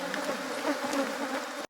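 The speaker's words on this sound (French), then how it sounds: "Vous voyez les abeilles?" Bees drone in a continuous close buzz at an agroecology training camp in Benin, with a dense, wavering hum and no voices before it cuts off abruptly.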